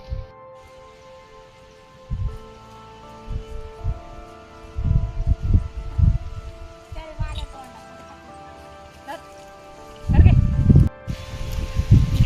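Goats bleat in a village setting near a river, giving several loud, close calls in clusters with quieter pauses between them.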